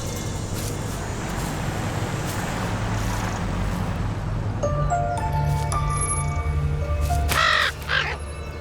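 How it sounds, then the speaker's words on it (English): A crow caws loudly and nearby in a short burst of harsh calls near the end, following a stretch of steady road traffic and passing vehicle noise. No one speaks. "It's that same crow."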